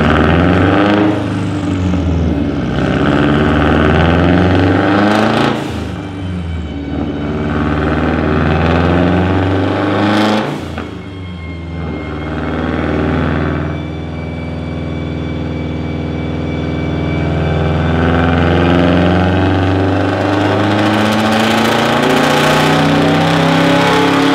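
A loud Subaru WRX engine on a dyno revs up and down repeatedly, holding high roaring pitches between brief drops, with no talking.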